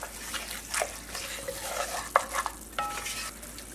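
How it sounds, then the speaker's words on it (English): A flour and fat gravy browns in a pan while being stirred, with a soft sizzle under scraping strokes of the spoon and a few light clinks against the pan. "Have to keep stirring it."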